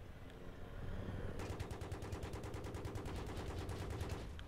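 Rapid automatic gunfire from the Battlefield 3 video game, a dense rattling burst of fast, even shots that starts after a moment and keeps going steadily to the end, loud and unbroken, with no voices.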